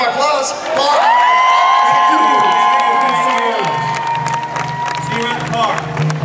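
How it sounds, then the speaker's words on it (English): Audience members at the All My Children talk show at Disney's Hollywood Studios in 2008 cheer and whoop loudly, with scattered clapping in a big crowd. An amplified voice carries over the noise, and the crowd sound stays strong throughout. "let's have another round of applause for"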